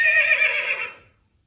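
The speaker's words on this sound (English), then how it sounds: "Horse." A single horse whinny from a children's farm-animal sound book, loud and bright, trailing off into silence after about a second.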